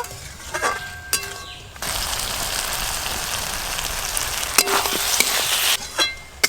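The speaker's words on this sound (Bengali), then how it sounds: "পেঁয়াজগুলো যতক্ষণ না ভালো করে ভাজা হয় ততক্ষণ এইভাবে নেড়ে নেড়ে ভালো করে ভেজে নেব।" Chopped onions frying in a pan with chicken liver, gizzard and meat cooking to follow, a steady close sizzle with intermittent scraping stirs at the start and end, no voices.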